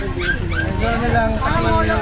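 Dogs for sale at a market yip, bark and whimper in a steady, close jumble, with people talking throughout.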